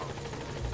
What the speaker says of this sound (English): Supply drop, support helicopter has arrived.